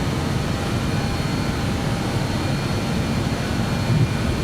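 BAe 146-200 jet climbing out after takeoff in a flight simulator, a steady, dense engine roar with broadband hiss that holds constant throughout, no speech.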